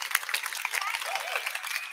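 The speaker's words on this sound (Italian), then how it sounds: "L'applauso è per loro, ovviamente." Participants in an open dance class in the Bob Fosse musical style are applauded. Dense, steady clapping fills the whole clip, with some voices mixed in.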